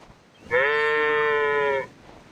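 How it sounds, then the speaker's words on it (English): An ibex in a hunting video game set in a Siberian expedition gives one loud, goat-like bleat, a sustained nasal call of just over a second, close and clear with nothing else around it. "the Ibex are basically just like big goats, so it does make sense that they have the goat kind of bah for their replies"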